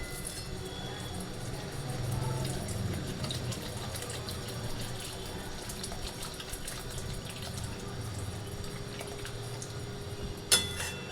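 Water poured into a pan of fish curry with potol, potato and brinjal, a soft continuous trickling and splashing that runs steadily, ending in a short sharp clatter near the close.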